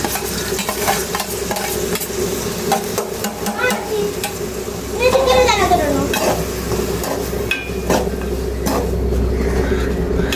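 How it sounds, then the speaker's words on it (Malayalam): Sliced onions for chicken curry frying in hot oil in a home kitchen, a steady close sizzle broken by the scrape and clatter of stirring throughout, with no talk. "കുറച്ച് സവാളയൊക്കെ ഇതിലേക്ക് ഇടാം."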